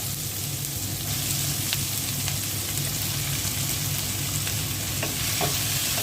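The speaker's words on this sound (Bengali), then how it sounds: "মাছ ভাজা তেলের মধ্যে পেঁয়াজ দিয়ে দিচ্ছি। পেঁয়াজটা হালকা ভেজে নেব। সাথে দিয়ে দিচ্ছি টমেটো।" Sliced onion and tomato fry in oil left over from frying rohu fish, producing a dense, even sizzle up close with faint crackles and occasional stirring, steady throughout with no talking.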